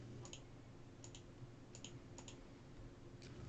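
Faint computer keyboard clicks come in small clusters of two or three, spread irregularly over a quiet background hum with no speech.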